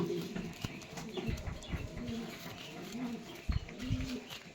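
Pigeons coo in a low, throaty, repeated pattern in a home loft, with a few soft bumps and handling noises between the calls.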